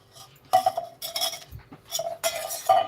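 A metal pan is greased with ghee to set wheat-flour barfi: a spoon clinks and scrapes against the metal in several short bursts, fairly close, with no talking.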